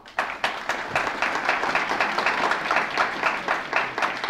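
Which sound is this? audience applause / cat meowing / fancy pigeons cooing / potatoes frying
audience applause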